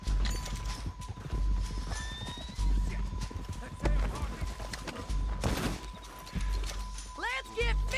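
Horse hooves clip-clop rapidly in Red Dead Redemption 2 gameplay, with a horse neighing near the end, alongside game effects and character voices talking over the action.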